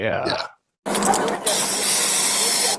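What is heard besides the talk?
OC pepper spray being sprayed into a car's back window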